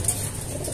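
Racing pigeons coo softly in their loft, a low murmuring burble close by over steady background noise.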